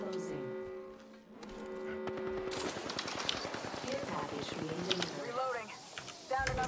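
Rapid gunfire in the battle royale game Apex Legends, bursts of shots rattling continuously near and loud, mixed with game effects while players talk over it.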